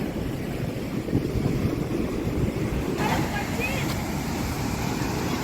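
Sea waves wash steadily onto Devgad beach in the evening, a broad continuous roar of surf mixed with heavy wind rumbling across the microphone, with no clear breaks.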